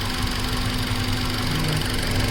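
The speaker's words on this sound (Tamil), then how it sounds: "அதை பாருங்கள், இன்ஜின் நல்லாவே மிஸ் ஆகுது பாருங்கள்," A car engine misfires because rats chewed its wiring, causing a camshaft sensor fault. It runs with a loud, steady, rough knocking drone close by, with no voices.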